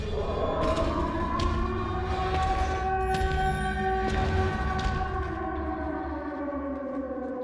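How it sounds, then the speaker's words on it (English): Sirens in the Silent Hill 2 Remake game, long wailing tones that slowly rise and fall and overlap for several seconds, loud and sustained over a dense low rumble. "Notice the sirens as well."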